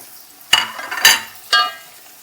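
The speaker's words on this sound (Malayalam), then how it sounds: "നമുക്ക് ഇനി 2 തക്കാളി അരിഞ്ഞത് ഇട്ട് കൊടുത്തിട്ട് ഒന്ന് ഇളക്കട്ടോ." Chopped tomatoes stirred into frying clam meat in a pan, three distinct scraping stirs with soft sizzle and faint utensil clinks, close and alone.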